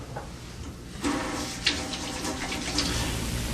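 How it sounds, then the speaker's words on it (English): A running tap splashes as hands are washed at a sink before a head and neck examination, a steady moderate hiss of water with faint splashes and no talk. "So first I'm going to go ahead and wash my hands."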